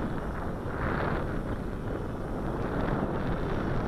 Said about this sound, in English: And now the wind's kicking up.